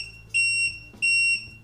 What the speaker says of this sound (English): the robot will start beeping so you can go find it